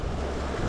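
Ocean waves breaking on a beach at Egmont Key, a steady loud wash of surf and wind rushing close to the microphone, with no voices.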